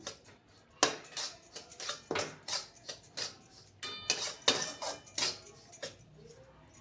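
A spoon stirs semolina roasting in oil in a pan over low gas for upma, making repeated close scraping clinks against the metal in an irregular rhythm, with no talking.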